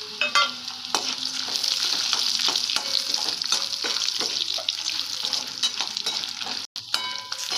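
A few cashews and pre-roasted peanuts fry in a pan for butter rice, a dense continuous sizzle close up with scattered spatula scrapes and clicks, plus a brief dropout near the end, no voices.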